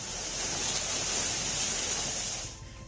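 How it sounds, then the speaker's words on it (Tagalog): A raging river current rushes in heavy rain on a steep, slippery mountain, giving a loud, steady wash of broadband roar that cuts off abruptly near the end. "hanggang sa pagtawid sa rumaragasang agos ng ilog"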